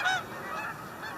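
Geese honk in a short burst, clear and fairly close, with a steady background hum beneath the calls.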